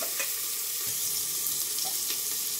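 Potatoes sizzle in a pan as they are stirred with garam masala, coriander powder and salt, a steady close frying hiss broken by a few soft scraping clinks.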